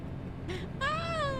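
A cat meows once in a clear, drawn-out cry, close by over a steady low hum, with a fainter short sound just before it.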